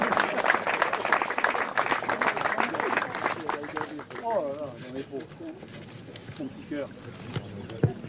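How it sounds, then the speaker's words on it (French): Audience applause at a club house inauguration in Santeny, a burst of clapping that tapers off, with someone speaking over it and other voices and cooing birds in the background. "aujourd'hui Bruno Roger, que l'on peut applaudir."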